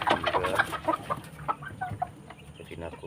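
Hens sick with snoring respiratory symptoms and snot cluck close by in their coop, a burst of overlapping clucks at first that thins to sparse, quieter calls.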